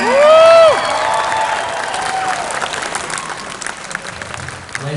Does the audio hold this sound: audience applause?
yes